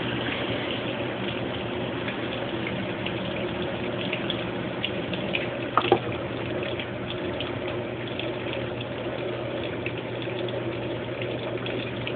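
A Brastemp Baby Mondial washing machine fills with water, a steady rushing gush running continuously, with a small clunk near the middle.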